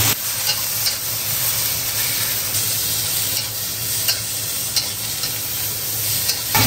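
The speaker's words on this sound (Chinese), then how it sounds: "加一点油，韭菜花下锅。" Garlic chive flowers stir-fried in oil in a home wok alongside squid, ginger, small chillies and garlic give a steady, loud sizzle throughout, with occasional sharp clicks and scrapes of the spatula and no talking.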